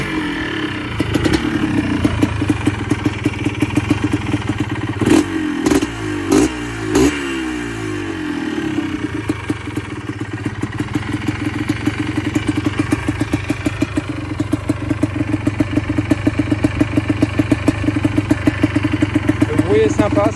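A Yamaha YFS 200 Blaster quad with a non-stock exhaust starts up and idles with a loud, rapid two-stroke putter, then revs in short bursts before settling back to a steady, raspy idle close to the microphone.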